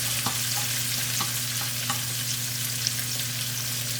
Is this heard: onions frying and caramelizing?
yes